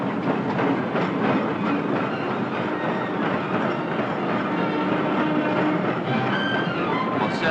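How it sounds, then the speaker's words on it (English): An electric suburban train rolls through Waterloo station in 1944, a steady loud rumble of wheels with rhythmic clicking over rail joints and faint squeals, no voices. "electric trains serving the suburbs roll in and out of this station"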